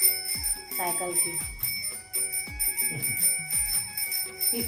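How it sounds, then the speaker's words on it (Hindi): Bicycle bell rings repeatedly in bright metallic dings over steady background music, with voices talking at times. "ये देखकर घंटी बजाती साइकिल की।"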